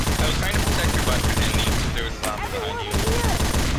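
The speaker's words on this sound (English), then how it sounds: "Gun's starting to overheat." Rapid, dense automatic gunfire from the game Left 4 Dead 2 rattles loudly and continuously, with people talking over it.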